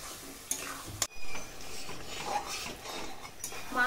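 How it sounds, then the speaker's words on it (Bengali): Chicken pieces fried and stirred in a pan for cucumber chicken curry, with soft sizzling under repeated scraping stirs and a couple of sharp utensil knocks against the pan, close up with no talking. "মাংস কষাতে কষাতে কালারটা দেখুন বন্ধুরা"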